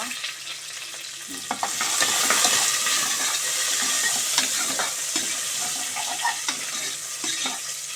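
Mustard seeds tempering in hot oil for a greens sambar, a loud steady sizzle with scattered crackles and pops, heard up close and alone with no talking.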